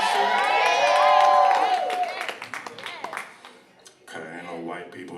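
A comedy club audience cheers, whoops and claps at a stand-up show, a loud burst of crowd noise that tapers off into scattered shouts before a voice speaks over it.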